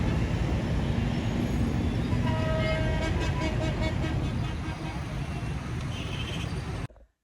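Rush-hour traffic in Islamabad, a dense, loud, steady roar of vehicles with a few car horns honking in the middle, ending abruptly.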